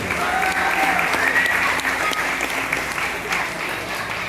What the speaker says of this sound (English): a big round of applause for this beautiful bird